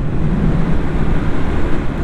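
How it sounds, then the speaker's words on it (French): Strong wind buffets the microphone with a constant loud, rumbling roar, and no one speaks. "Qu'est-ce qu'il y a comme vent aujourd'hui, c'est ouf"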